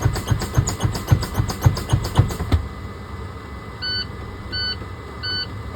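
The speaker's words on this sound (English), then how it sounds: "I'm gonna pump my brakes until my alarm sound, and it should sound at or around 60 psi" A series of rhythmic air hisses from pumped truck brakes gives way to three evenly spaced high electronic low-air-pressure warning beeps near 60 psi, clear and close.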